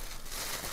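A plastic mailbag sealed with tape crinkles and rustles loudly and steadily at close range as it is pulled open.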